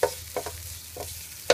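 Pork frying in a little oil in a pan for yakisoba, giving a quiet steady sizzle broken by a few scrape-and-clatter strokes of stirring near the start, middle and end.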